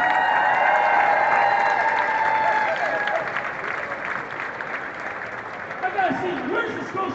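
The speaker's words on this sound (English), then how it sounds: "we got to have a big round of applause for Scotiabank." Crowd at the Scotiabank Rat Race for United Way in Scotia Plaza, Toronto, applauding and cheering loudly, then fading into a softer clatter of claps.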